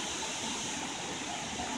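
Bald River Falls in Tennessee pours down in a constant, even hiss of rushing water, heard from a moderate distance and fairly quiet, with no voices.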